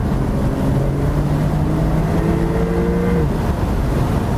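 Porsche 992 Targa 4 GTS flat-six engine revving, a loud continuous roar with a rising drone that climbs steadily in pitch before easing off, heard from inside the car with no talking.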